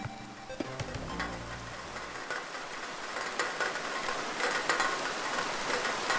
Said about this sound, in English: Cool Rain changes the sound of rain when it hits different block types.